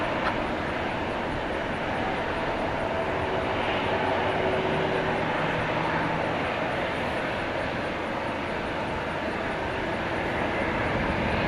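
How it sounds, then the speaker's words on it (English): An American Eagle CRJ 701ER regional jet at Dallas Fort Worth airport at night produces a continuous, even jet rumble and hiss, moderately distant and unbroken for the whole stretch. "This American Eagle, CRJ 701ER"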